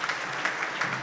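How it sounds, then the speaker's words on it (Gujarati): An audience at a Thursday's Thought program gives brief, steady applause to welcome a guest, the clapping dense and moderately loud with slight pulses throughout. "એને વિશેષ તાળીઓથી આપણે વધાવવા"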